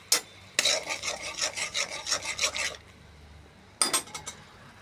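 Hilsa fish cooking in a pan with ground coriander and chili powder, stirred with rhythmic scraping and rasping strokes in two bursts separated by a pause, close and fairly quiet.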